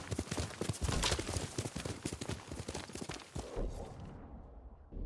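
Horse hooves clip-clop in a rapid, regular rhythm in the Ghost of Tsushima video game, moderately close, before the hoofbeats break off and a low thud follows near the end.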